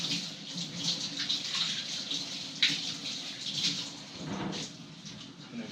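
Tap water runs steadily as a hydrometer is rinsed off after a soil test, a close, continuous splashing wash with small shifts in flow and one brief clatter midway.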